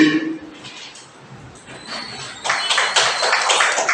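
Audience applause at an Anger Free School training session, a dense burst of clapping that swells up after a brief quieter stretch and carries on steadily, close and loud.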